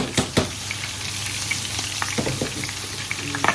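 Masala fries in a pan for prawn malaikari, a loud continuous sizzle close by, broken by sharp utensil scrapes and clicks near the start and end.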